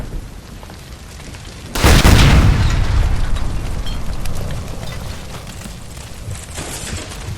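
A gas line blows up in a kitchen in L.A. Noire, a single loud blast bursting after a quiet lead-in, then a long rumbling roar that slowly fades with crackling debris afterward, no voices.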